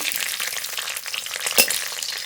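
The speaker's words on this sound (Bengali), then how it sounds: "রসুনটা একটু ভাজা ভাজা করে নেব" Chopped garlic and cumin seeds frying in mustard oil for a fenugreek-leaf and eggplant dish, a steady close sizzle with a brief sharp crackle near the end.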